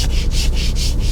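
A hand tool shaves wood inside a small kei camper van, curling off thin strips; four rhythmic rasping strokes, close and loud, each a bright scraping sweep with short pauses between.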